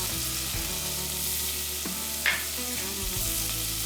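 Carrots and onions sauté in bacon grease in a pan, giving a steady close sizzle with a few scrapes and stirring knocks and no talk.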